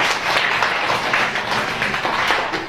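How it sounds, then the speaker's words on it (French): Pupils in a French lesson classroom burst into dense, continuous applause, many hands clapping at once in a loud, close wash of sound without a clear rhythm. "Applaudissez-la."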